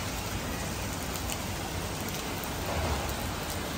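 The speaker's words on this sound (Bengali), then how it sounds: "ঝুম ঝুম বৃষ্টি।" Heavy rain falls outside in a dense, even hiss that stays loud and unbroken throughout, with no voices over it.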